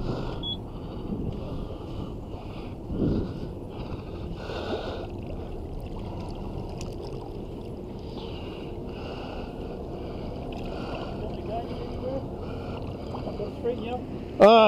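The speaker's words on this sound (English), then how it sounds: "bump the boat in gear here." An inshore fishing boat's motor runs in gear with a steady, low drone under wind buffeting and light water noise; the level stays even until a brief bump right at the end.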